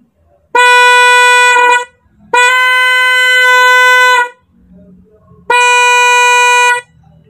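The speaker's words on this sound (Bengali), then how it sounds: "এরপরে আসি পফন, জিআর পফন, যেটা অনেকে হাইড্রোলিক হর্ন বলে থাকেন।" A GR hydraulic air horn on a motorbike blares three times close up. The blasts are loud, brassy and steady, the middle one longest, with short quiet gaps between them.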